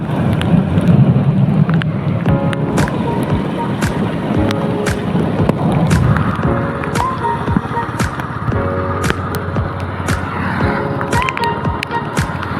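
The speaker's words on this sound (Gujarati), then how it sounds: "ચાલુ વરસાદે આપણે ગાડી ચલાવી રહ્યા છીએ" Rain drums on a moving car over a low engine rumble, with sharp clicks and patters scattered throughout and faint tonal sounds in the background.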